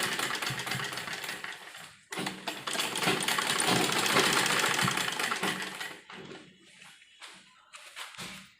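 An electric sewing machine stitches a frock with a side dori at close range, running in steady bursts with a busy mechanical whir, stopping briefly near two seconds and tapering into short intermittent runs toward the end.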